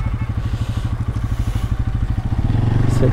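A motorcycle engine on a forest road putters loudly in a close, steady rhythmic thump, then roughens and sputters near the end as it stalls.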